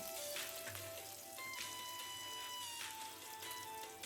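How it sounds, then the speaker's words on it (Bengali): Steady, crackling sizzle of eggplant pieces frying in hot oil, a dense close hiss with faint popping throughout and no voices. "এইভাবে টুকরো করে বেগুন কেটে নিয়েছি সেটা ভেজে নিচ্ছি"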